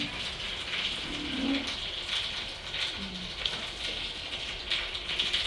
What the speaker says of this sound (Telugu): ఇప్పుడు 4 చినుకులు పడుతున్నాయి, అందుకని కుర్చీ వేసుకొని వర్షంలో కూర్చున్నాం.